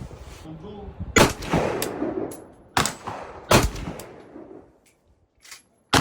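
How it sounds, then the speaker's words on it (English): An Occam 1775 rifle fires 7.62x39 124-grain rounds in a quick two-shot group, loud sharp reports with ringing echoes, a couple more cracks trailing off, and faint voices at the start. "Okay, guys, we just shot 2 rounds."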